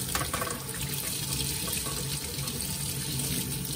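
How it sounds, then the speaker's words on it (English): Warm tap water gushes steadily through the rotary valves of a French horn, a continuous close splashing and gurgling flow with no talking. "Making sure to run water through them, and I can depress the valves so that they run through the actual inside of the rotor."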